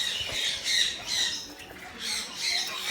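A bird at an eco park gives about five loud, harsh squawks in an uneven rhythm, close by.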